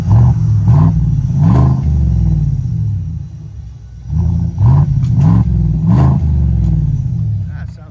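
A 2024 Chevy Tahoe 5.3L V8 with a Black Widow exhaust is revved in short repeated blips, each a deep throaty surge over a steady rumbling idle, loud and close from outside.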